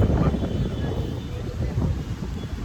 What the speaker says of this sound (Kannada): ಸ್ವಲ್ಪ ಗಾಳಿ ಮಳೆ ಸ್ಟಾರ್ಟ್ ಆಯಿತು ಜೋರು ಗಾಳಿ